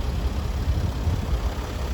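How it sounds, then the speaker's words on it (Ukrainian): The 3.0-litre CDI diesel engine of a 2013 armoured Mercedes-Benz Sprinter 319 idles steadily nearby, a low, even rumble with no voices. "Ось так працює м'яко двигун."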